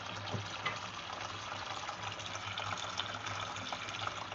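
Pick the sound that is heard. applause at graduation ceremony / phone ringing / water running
water running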